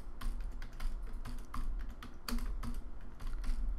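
Rapid typing on a computer keyboard, a close, steady flurry of quick key clicks with a few louder strikes, no speech.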